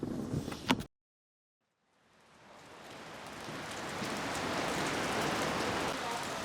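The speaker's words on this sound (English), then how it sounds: "It's raining" A short burst of noise cuts to silence, then steady rain fades in and grows into a constant hiss of falling drops.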